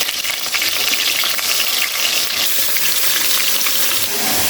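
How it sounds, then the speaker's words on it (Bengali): Pieces of chicken meat fry in hot oil in a pan over a blazing stove fire, a loud continuous sizzle with faint stirring scrapes throughout. "আমার মুরগির মাংসগুলো আগুনের তাপে ভাজা হচ্ছে"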